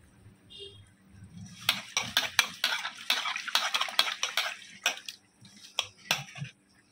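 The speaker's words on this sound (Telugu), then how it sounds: "బాగా మిక్స్ చేయండి." Small fish being mixed and rubbed by hand in a bowl during cleaning, giving quiet wet squelching, scraping and clinking in irregular bursts up close, with soft clatters near the end.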